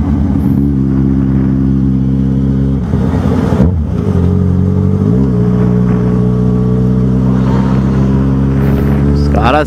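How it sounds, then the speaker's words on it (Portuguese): Yamaha XJ6 motorcycle engine held at a steady loud idle-to-mid rev under a bridge overpass, with sustained low harmonic drone and a brief throttle blip partway through; a voice speaks over it. "Vamos dar uma tiradinha de giro."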